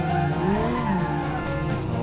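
A car in a sim racing game drifts, with a loud, continuous engine roar and long tire squeal that slides in pitch as the car slips sideways.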